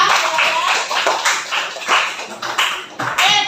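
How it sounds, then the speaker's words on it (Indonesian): A classroom of students claps for a classmate, a brief burst of uneven, close, sharp hand claps. "tepuk tangan untuk Kansa"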